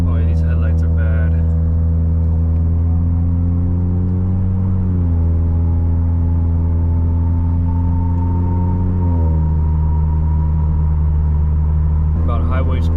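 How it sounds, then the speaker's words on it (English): Smooth, steady engine drone and road rumble from inside a 2017 Lexus IS200t F-Sport at highway speed, with two brief pitch drops as the 8-speed automatic shifts up and faint voices at the edges. "About highway speed, shifting smooth."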